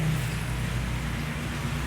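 Morning rain falls steadily in Om Yai, Thailand, a continuous even hiss of drops with a low rumble underneath and no clear individual impacts.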